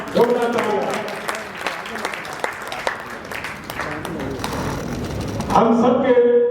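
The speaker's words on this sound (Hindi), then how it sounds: "एक बार जोरदार तालियां कुसुमनी जैन के लिए।" Enthusiastic audience applause rolls through the hall at a Giants Group of Jodhpur oath-taking ceremony, a dense, steady clatter of many hands lasting several seconds, growing fuller near the end as a voice comes in over it.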